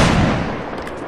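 A musket volley in a Napoleonic Wars video game: one dense, loud crackling roar of many shots together, fading over about a second.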